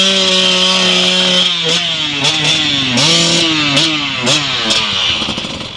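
Motorcycle engine on an off-road riding lesson revving up and down with the throttle, a steady idle giving way to repeated rising and falling blips, loud and close, with no talk.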